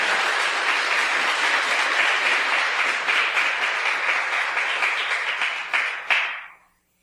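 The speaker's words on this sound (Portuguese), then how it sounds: "Você pode aplaudir o Senhor?" A church congregation at a healing seminar applauds, with steady dense clapping throughout that swells briefly near the end and then fades out quickly.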